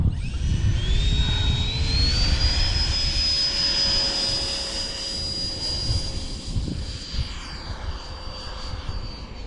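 Sebart Fiat G-91 electric ducted fan model jet, its engine giving a loud, close, steady high whine that rises in pitch over the first few seconds and then holds, with a rushing roar underneath and no talking.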